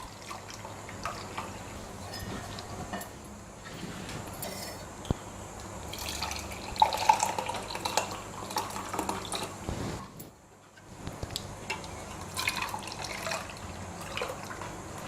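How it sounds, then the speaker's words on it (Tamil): Boiling water poured over green tea leaves held in a strainer, a soft steady trickle and splash of liquid running through, fairly quiet and continuous with a brief pause near the end. "இப்படி நல்லா கொதிக்கிற தண்ணியை நம்ம மேலாக இப்படி விட்டு விட்டு 4-5 தடவை வடிகட்டி வடிகட்டி எடுக்கணுங்க"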